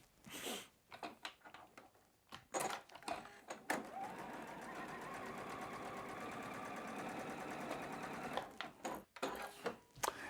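A home sewing machine runs steadily, stitching a quilt block seam in Michael Miller fabric, a continuous close mechanical whir lasting several seconds with short handling noises and brief starts before and after.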